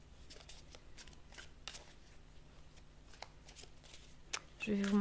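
A deck of tarot or oracle cards is shuffled close by in quick, light repeated riffles and taps at low volume, with a voice speaking alongside.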